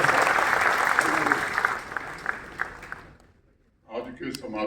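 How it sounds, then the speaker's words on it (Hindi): Audience at a book festival event in Srinagar applauds the Lieutenant Governor, a broad sustained wash of clapping that fades out around the third second, followed by a brief burst of speech. "जोरदार तालियां ऑनरेबल लेफ्टिनेंट गवर्नर साहब"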